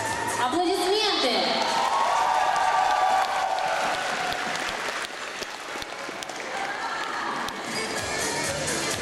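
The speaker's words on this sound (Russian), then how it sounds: "Аплодисменты!" An audience at an animation festival award ceremony applauds, a dense, sustained wash of clapping that fills the room; a voice speaks briefly over the start.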